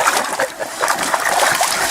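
Water gushes and splashes from a Gold Buddy Mini Highbanker sluice used for gold prospecting outdoors, a close, continuous spattering rush with uneven surges.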